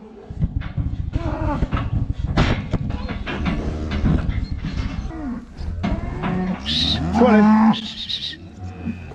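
Cows and calves moo loudly and repeatedly on a cattle farm after being separated, deep overlapping lows and bellows coming one after another with hardly a pause, some close and some further off.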